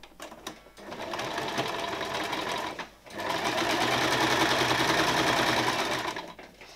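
A sewing machine stitches a shirt sleeve in two steady, loud buzzing runs separated by a short pause, close and alone.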